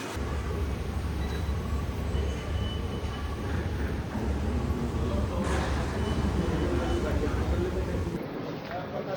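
A Delhi metro train rumbles steadily at New Delhi Metro Station, a low continuous roar filling the whole stretch. It cuts off sharply near the end.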